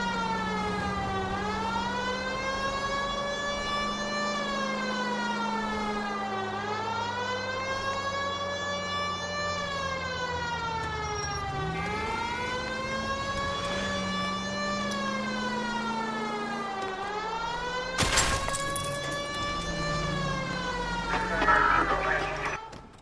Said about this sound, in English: If you use the siren, maybe those metal things in front of you called cars will know you're in a hurry.